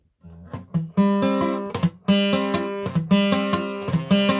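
A guitar chord strummed several times in an uneven rhythm, each strum ringing out bright and full, close and fairly loud with no talking.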